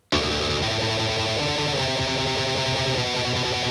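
A heavily distorted electric guitar, recorded with an SM57 dynamic mic, plays a dense chugging metal riff, loud and close, with thick saturated tone throughout and no voices.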